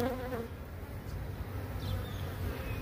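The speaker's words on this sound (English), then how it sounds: "Let's save these bees." A dense, continuous buzzing of many honey bees during a hive cutout, close and steady throughout, with a brief higher tone at the very start.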